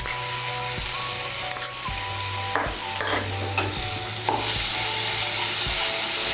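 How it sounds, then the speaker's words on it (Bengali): Poppy seed, green chilli and coconut paste frying in a pan while a spoon stirs it, with a steady close sizzle under repeated scraping strokes and a brighter hiss building toward the end; no talking. "পোস্ত বাটা, কাঁচা লঙ্কা বাটা আর নারকেল বাটাটাকে ভালো করে মিশিয়ে নিয়ে আর একটু ভেজে নেব।"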